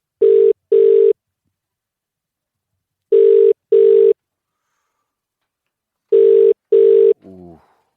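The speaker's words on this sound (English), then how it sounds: "We are going to punch in the phone number" Telephone ringback tone after dialing a number: three pairs of loud, clean double rings separated by long silent gaps, followed by a brief click as the line connects.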